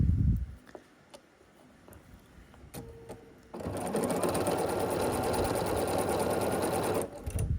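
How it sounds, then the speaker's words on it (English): Sewing machine stitching pieces of a scrappy sampler quilt block, a steady rapid mechanical whir that starts after a few quiet seconds of faint handling and runs close and continuous for about three and a half seconds before stopping. "we're going to sew along this line now"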